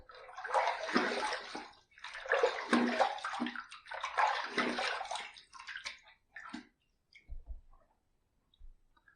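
Running water rinses a Gem Micromatic razor after a shave, with three long bursts of broadband splashing and flow, followed by a few short, fainter drips and taps as it trails off.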